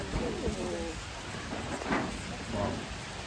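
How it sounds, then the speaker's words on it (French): Rain falling steadily outdoors in Vietnam, a dense, continuous hiss with scattered heavier patters and a few low rumbling bumps, fairly close. "Et là il s'est mis à pleuvoir là."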